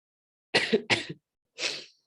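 Two quick coughs close to the microphone, then a pause and a third, breathier cough, in an otherwise silent room.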